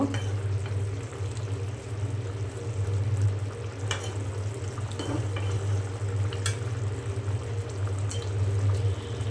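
Bottle gourd and prawn curry simmers and sizzles in a pan, a steady low bubbling with soft intermittent clinks and stirring scrapes throughout.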